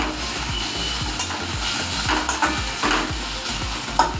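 Sliced onions frying in a pan for a chickpea ghugni, a steady loud sizzle broken by rhythmic scraping and stirring strokes about twice a second, with no talking.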